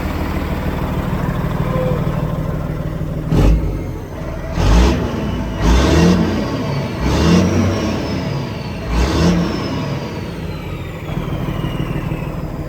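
An old truck engine that had sat for 11 years runs at a loud, rough idle and is revved several times in steady swells, close by with no talk.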